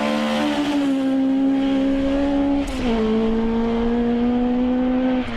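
Ford Escort Mark I rally car engine revving hard with a steady, loud, droning tone, a brief shift-like dip midway before climbing again; close and continuous with no talk.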